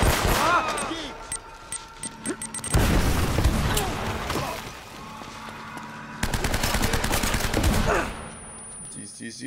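Rapid bursts of automatic rifle fire, including an M4, in the action game Uncharted: Drake's Fortune, loud and dense with short pauses between volleys and brief speech mixed in.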